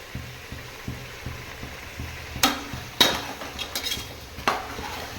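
A spoon stirs vegetable biryani ingredients with mint, coriander, curry leaves and ginger-garlic paste in a pot, scraping in a steady rhythm before several sharper metallic clanks against the rim.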